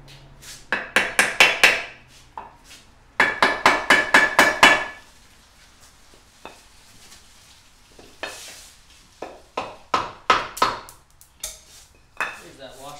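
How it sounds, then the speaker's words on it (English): Metal hammer taps during impeller work on a 115 Mercury Optimax outboard: two quick bursts of five or six sharp ringing strikes, then scattered lighter clinks and taps, close up with no talking. "Few gentle taps."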